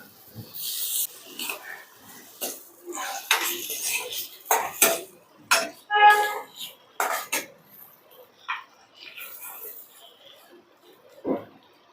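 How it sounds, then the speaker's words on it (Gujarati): A spoon clinks and scrapes against a pan in irregular bursts, stirring bitter gourd and cashews with spices, with quiet gaps between strokes. "કાજુ અને કારેલાને મસાલા સાથે મિક્સ કરી લેશું આપણે"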